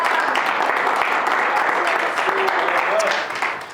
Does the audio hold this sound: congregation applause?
yes